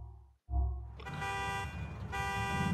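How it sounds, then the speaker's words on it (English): Car alarm in GTA IV blaring loud and steady after a short silent gap, with layered tonal wailing holding on, briefly dipping, then coming back full. "knock it off with the alarm, please"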